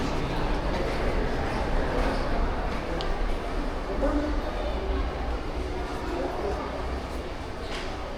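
A Madrid metro train carries passengers with a steady, loud rolling rumble and rattle that fill the whole ride, while faint voices drift underneath.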